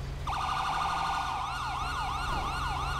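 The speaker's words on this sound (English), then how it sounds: "they're raising all kind of cane with them sirens back there" Emergency vehicle sirens wail in GTA 5 during a police callout, a loud continuous warbling siren that starts abruptly and rises and falls rapidly over a low engine rumble, with no talking.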